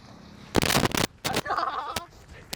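Firecrackers going off in a game of cricket played with crackers during Diwali: a sharp loud blast, a second burst and a short crack, with people talking in between.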